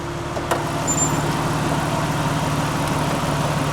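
A 1996 Jeep Cherokee XJ with the 4.0-litre straight-six engine idles up close. It gives a steady, low, even rumble with a brief click near the start and no talking.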